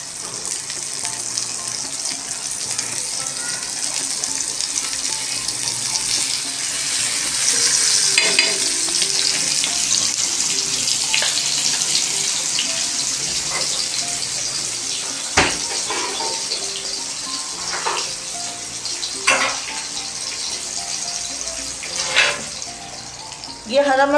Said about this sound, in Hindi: ये छोटी सी प्याज है और ये है घी का भगार लगाइएगा